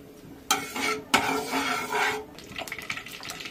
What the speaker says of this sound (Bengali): ওই তেলের মধ্যে ফোড়ন হিসেবে দিয়ে দিলাম একটা তেজপাতা, জিরে আর গরম মশলা।